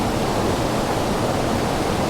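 A waterfall pours over rocks outdoors, a loud, dense and unbroken roar of rushing water that fills the whole clip, with no voices.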